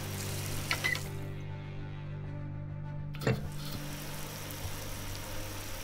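Water from a garden hose in the video game Eventide 3 runs as a steady, even wash under a low hum, with a short splashy burst near the middle and no talking.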